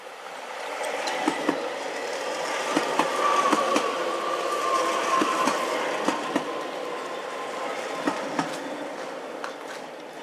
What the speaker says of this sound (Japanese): 3番線に列車が到着いたします。